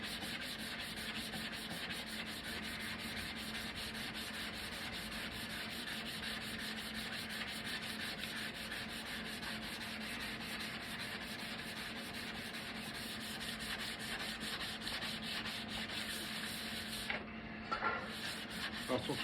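Machine sanding of wood, roughing down the surface: a steady, faint, continuous abrasive whir that holds evenly throughout, with a brief disturbance near the end.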